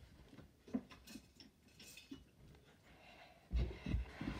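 A mini spoon being placed into a small package, giving soft light clinks and rustles at low volume, with a slightly louder handling clatter near the end.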